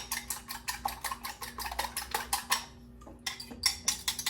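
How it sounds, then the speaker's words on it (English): Eggs beaten for crab cakes, with a utensil clicking quickly and rhythmically against a bowl in a steady, close whisking pattern, briefly pausing near the end before resuming. "So what I do is I just take the eggs, mix them up like this"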